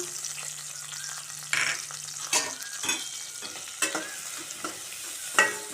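Chicken gravy masala with turmeric sautéing in a pan in coconut oil, a soft close sizzle with repeated stirring scrapes and knocks at uneven intervals, no voices.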